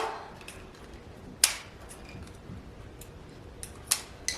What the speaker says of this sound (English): I'm going to go ahead and cut my thinner straw